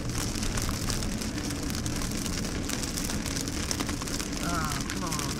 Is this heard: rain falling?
yes